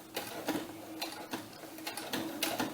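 A sewing machine runs a basting stitch along the edge of a fabric doll's winter cap, its needle chattering in short, even bursts at close range with brief pauses between runs.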